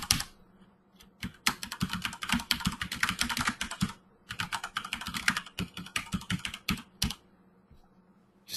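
Quick clattering keystrokes on a computer keyboard come in close, fast bursts separated by short pauses, with a faint steady hum beneath and no talking.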